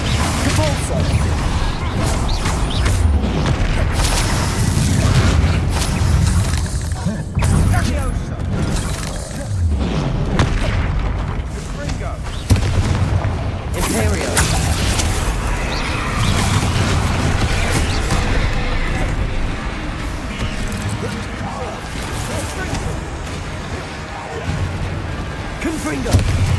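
Spell combat in Hogwarts Legacy, with dense, continuous blasts, crashes and shattering impacts from Confringo, Levioso and Depulso spells piling up over a steady rumbling game mix, while a voice keeps calling out spell names throughout.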